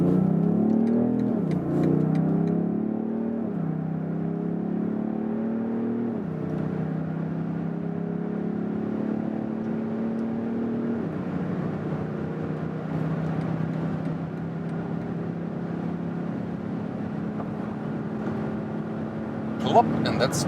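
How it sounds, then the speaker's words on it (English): BMW X7 M50d in sports mode accelerating hard from about 40 km/h, a steady engine drone whose pitch climbs through several gear shifts, heard from inside the cabin under occasional talk. "So sports mode, all the full 400 horsepower now, and we accelerate from about 40 kilometers an hour to whatever."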